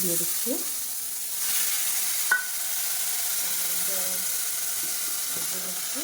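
Paneer pieces hit a hot kadai with butter and oil for a butter malai dish, giving a steady low sizzle under brief speech, with a sharp clink of utensil at one point.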